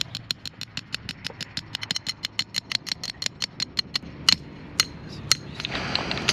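Repeated hammer blows drive a wooden batten board stake into the ground at an outdoor building site, a steady rhythm of sharp, close strikes that slows and spaces out toward the end.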